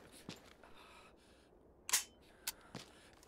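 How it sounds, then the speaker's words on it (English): In the Project Reality shooter game, a rifle with an empty magazine gives a few sharp dry clicks, quiet and spaced apart, with one louder snap in the middle. "when you hear this sound, you might be in big trouble because your magazine is empty"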